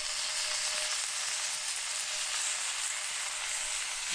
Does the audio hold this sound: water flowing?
no